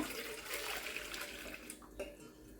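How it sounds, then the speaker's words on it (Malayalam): Hot water tipped out of a heated drinking glass in a home kitchen, a continuous splashing pour that runs steadily for about two seconds before trailing off, close and moderately loud with no talking. "ചൂടുവെള്ളം ഞാൻ ഒഴിച്ച് മാറ്റിയിട്ടുണ്ട്"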